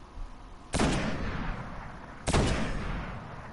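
Rockets fire in the Destiny video game on Mars, giving two heavy booming blasts about a second and a half apart, each followed by a long rumbling decay, with no talking over them.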